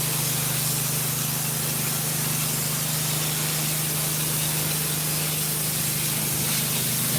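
Water spraying steadily to rinse down a surface indoors, a loud, continuous close-up hiss with a low hum underneath and no talking.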